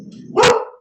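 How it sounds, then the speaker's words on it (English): A pet dog gives a single sharp, loud bark close by, which follows a low whine. It cuts in during an interview about GMOs and organic farming. "That's my dog."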